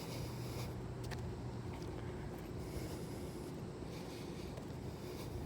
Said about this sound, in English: Those are the cars and noise of Interstate 40